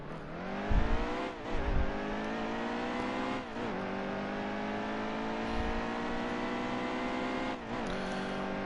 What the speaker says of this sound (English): 24 car just made it 4 wide heading into turn number 1